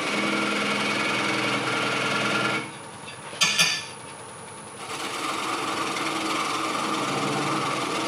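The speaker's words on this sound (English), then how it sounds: "And a 3/8 inch angle gouge just to get right down in there." A wood lathe spinning steadily as a 3/8 inch angle gouge cuts into a turned piece, a continuous whirring drone that drops briefly with a short scraping catch before resuming.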